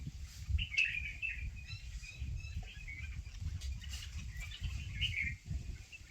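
Small birds chirp outdoors in a rural farm setting, with scattered high tweets coming and going over a steady low rumble of background noise.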